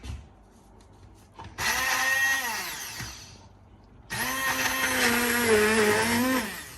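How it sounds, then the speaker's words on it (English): Handheld blender blitzing vegetable soup until smooth, two loud whirring bursts a couple of seconds apart with the motor pitch dipping and rising as it churns, close by and without talk. "I blitz the soup so it's nice and smooth"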